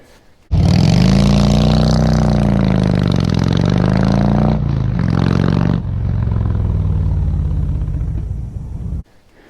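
A Harley-Davidson Road King rumbles to life on a warm Christmas Day ride in Arkansas. The close, loud V-twin throb revs and pulls away, shifts with dips in pitch, then cuts off abruptly near the end.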